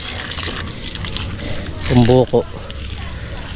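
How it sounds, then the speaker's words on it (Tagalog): Water is poured over eggplant plants in a backyard garden, a steady soft hiss and splash running throughout while a person speaks briefly partway through. "Talong naman yung diligan natin."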